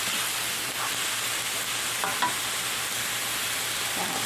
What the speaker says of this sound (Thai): เตาหนึ่งแล้วก็ผัดนี่นะคะ ผัดให้หอมหอมนะคะ